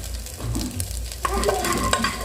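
Coconut pieces fry in ghee with a steady close sizzle and occasional stirring scrapes, the bubbling growing busier and denser midway through.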